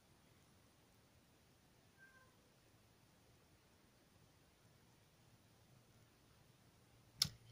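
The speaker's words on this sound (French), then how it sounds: "c'est le chat en bas qui réclame le matou" A cat meows faintly from downstairs in a quiet room, one short distant call early on against a low hiss, followed near the end by a brief sharp click close by.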